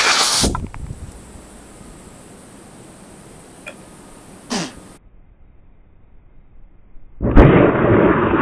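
A WASP injection knife's air cartridge fires into a hard watermelon, a sharp close burst followed later by another pop, then a loud rushing hiss of released air at the end.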